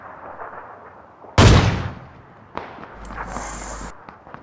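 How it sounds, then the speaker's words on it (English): Loud gunfire bursts in a video game shooting match: one sharp, heavy shot that tails off, then a quieter crack and a further spell of distant shooting and rumble, with no talking. "I think he's getting shot from behind"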